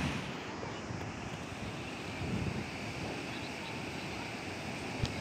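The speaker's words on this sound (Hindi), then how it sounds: "आज तो माशाल्लाह समंदर बहुत प्यारा लग रहा था, इसकी आवाज़ खौफनाक तो लगती है लेकिन प्यारी भी बहुत लगती है साथ में" Ocean waves wash on a Saudi Arabian seashore, a faint, steady surf roar blended with wind buffeting the microphone, distant and continuous.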